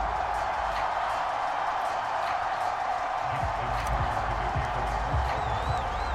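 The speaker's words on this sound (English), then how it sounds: "And the home crowd loves it." A simulated home stadium crowd in Madden NFL 22 roars after a football touchdown, a broad, steady wash of cheering and scattered whoops heard from a distance beneath a commentator's voice.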